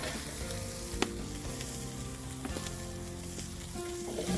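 Garlic and bell pepper sautéing in a paella pan over a wood fire, a steady close sizzle and crackle of frying with a few sharp clicks of stirring utensils, no voices.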